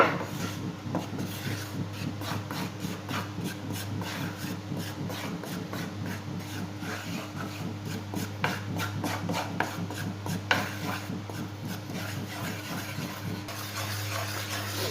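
Flour is stirred dry in a hot pan for homemade icing sugar, giving a steady, rhythmic scraping and rubbing of the utensil against the pan over a constant low hum, with no talking.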